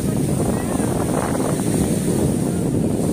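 Strong wind at Manila Bay buffets the microphone, a loud, constant low rumble that runs the whole time, with a person talking beneath the roar.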